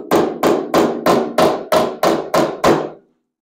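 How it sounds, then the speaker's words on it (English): Nine evenly spaced metallic hammer taps, hammer-off-dolly on a dented car roof, ring out close by in a steady rhythm, each with a short bright decay, then silence. "The hammer off dolly a little bit."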